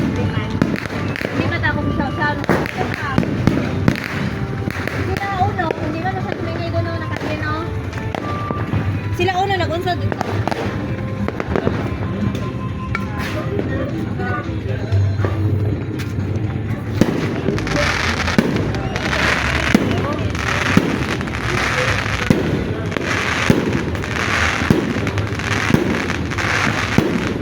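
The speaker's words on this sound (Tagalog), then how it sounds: "Kaya maraming fireworks, sabay-sabay." New Year fireworks bursting all around in a dense, continuous barrage of crackles and pops, loud and near, with people talking and exclaiming over the noise throughout.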